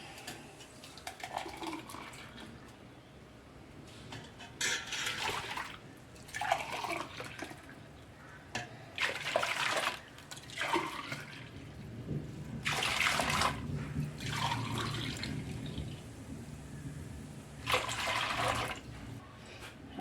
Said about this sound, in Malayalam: അപ്പോൾ നമുക്ക് വെള്ളം ഒഴിക്കാം